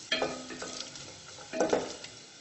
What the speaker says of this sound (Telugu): ఇప్పుడు మనం పచ్చి కొబ్బరి కూడా యాడ్ చేసుకుని 1 మినిట్ అలా ఫ్రై చేసి రిమూవ్ చేసేయాలి.